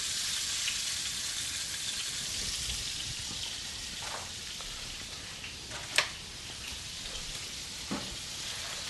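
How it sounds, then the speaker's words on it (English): Steady crackling sizzle of chicken thighs frying in hot oil, close and continuous, with a few sharper pops and spits. "Right, we'll leave that to sizzle."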